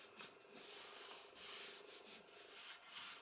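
Paper rubbed hard along the spine of an accordion album, a soft, close, continuous rasping with a few brief swells, faint and without any voices.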